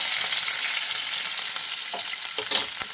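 Curry leaves sizzling in hot oil for cauliflower thoran, a bright steady crackle with a few sharper pops and stirring clicks near the end, close and alone.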